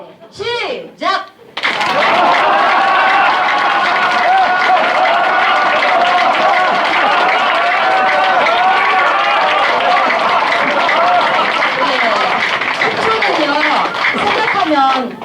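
Conference-hall audience at a lecture breaking into sustained, dense clapping on cue, loud and continuous for over ten seconds after a brief lead-in.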